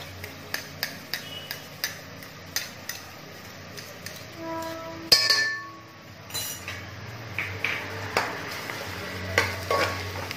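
Ginger-garlic paste stirred into onion frying in a pan for pav bhaji, with a steady sizzle under repeated scraping strokes and occasional clinks of the spoon against the pan.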